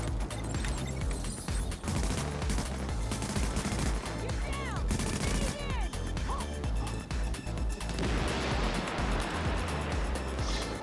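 Gunfire in Tom Clancy's The Division, loud rapid bursts of shots layered over dense game music and effects throughout, with brief chirping tones in the middle.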